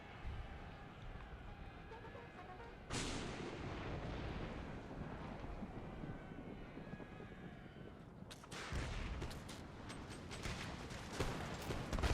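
Cannon artillery fire in the battle game Empire Total War, a continuous rumbling barrage with heavier booming volleys breaking in twice, loud and dense, without any voices.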